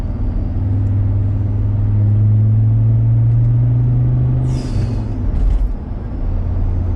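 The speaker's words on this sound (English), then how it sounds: "That's crazy for a diesel. turbo to have that instant throttle response like that." A Land Rover Discovery 2 turbo diesel with a Stage 3 tune pulls hard under acceleration, its steady low engine drone heard from inside the cabin, loud and continuous, with a brief change in tone near the end.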